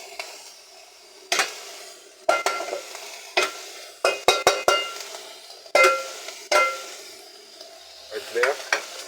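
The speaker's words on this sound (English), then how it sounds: "add the onions." Onions dropped into a hot pan of browned mincemeat for spaghetti bolognese, giving repeated sharp scrapes and clatters of a spoon over a steady sizzle, close and fairly loud, with no talking.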